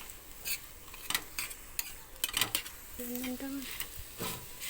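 Salted egg stir-fried on a hot griddle, with soft scraping and clinks of a spatula against the pan in irregular bursts, faint and close, alongside a brief tonal beep.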